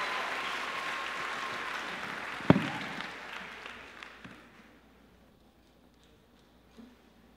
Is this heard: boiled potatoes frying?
no